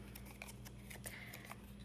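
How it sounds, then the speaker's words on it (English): Scissors cut a cardstock template on the diagonal with a few light, crisp snips against a steady low hum, quiet and close. "just cut it on the diagonal"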